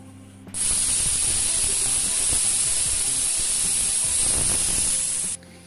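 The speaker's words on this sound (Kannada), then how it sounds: "ಕುಕ್ಕರ್ ಮುಚ್ಚಳ ಮುಚ್ಚಿಬಿಟ್ಟು ಎರಡು ವಿಸಲ್ ಹಾಕ್ಸೋಣ" A pressure cooker on the stove with brinjal and kala chana gojju inside vents steam in one long, loud, continuous high hiss that starts and stops sharply, a faint clatter running underneath.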